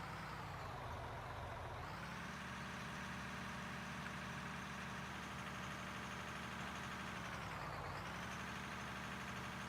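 Several trucks idling in a mining video game, a steady loud low engine drone that dips briefly twice, with no voices.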